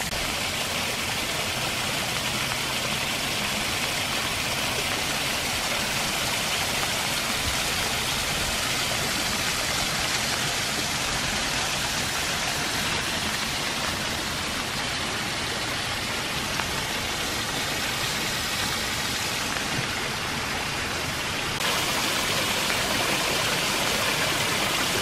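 Rain falling on a dark January morning in a park beside a stream, a dense continuous hiss of rainfall and running water that stays steady throughout, with no one speaking.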